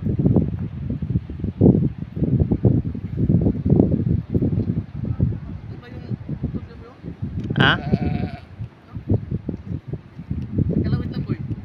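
Sheep bleating on a hike on Mount Maunganui, a few short distant bleats mixed with wind and rustling, largely under people chatting outdoors.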